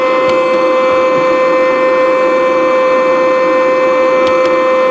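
A steady simulated aircraft engine drone, flying with too much flap and too little speed, with a constant high whine and hum, loud and unchanging throughout, with no one speaking.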